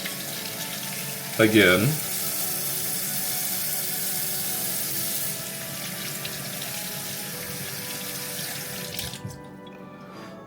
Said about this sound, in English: Let's get our fruit and everything. We will wash it off.